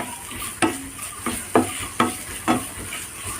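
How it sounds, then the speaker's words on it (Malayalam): Chopped green chillies sautéing in a hot pan while making a red spinach stir-fry, a steady soft sizzle broken by five sharp scrapes of a spoon stirring against the pan. "ഇനി ഒന്ന് ഇതൊന്ന് മൂപ്പിച്ചെടുക്കാം"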